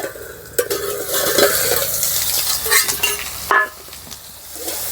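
Cauliflower stirred and fried in a pan gives a close, busy sizzle broken by utensil scrapes and clinks against the pan, with a sharper knock near the end.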